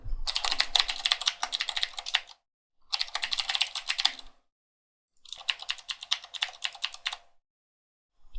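Close, crisp computer keyboard typing while filling in a user form, in three rapid bursts of clattering keystrokes separated by short silent pauses.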